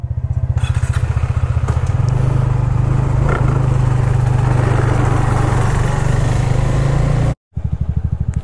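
A KTM Adventure motorcycle and a TVS Ntorq scooter ride along a road toward a waterfall near Siliserh Lake. A loud, steady engine drone holds close throughout, with a brief dropout near the end.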